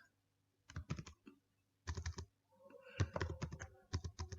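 Typing on a computer keyboard while working in an Excel spreadsheet: three quick bursts of close, crisp key clicks, each a rapid cluster of strokes separated by short pauses, the last stretch busier and denser.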